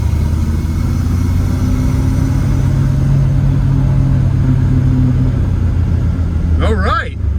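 A 1965 Mustang with an inline-six 200 engine, a T5 five-speed conversion and a broken throttle spring drives along with a loud, steady rumble from close by. The pitch shifts slightly between gears, and a brief voice comes at the end.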